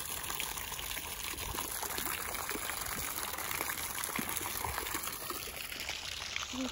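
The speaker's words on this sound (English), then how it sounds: "So this is the pond." Water trickles and splashes steadily in a pond, a constant, close, fairly loud babble with no pauses.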